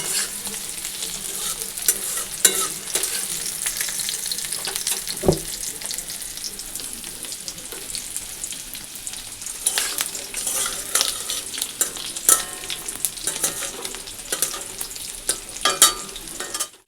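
Eggs frying in a pan give a steady close sizzle, broken by repeated scraping and stirring clicks and one sharp knock partway through, with no talking.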